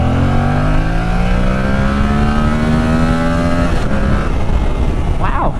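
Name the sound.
Yamaha R7 motorcycle accelerating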